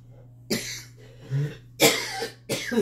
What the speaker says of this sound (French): Pardon pour ma toux.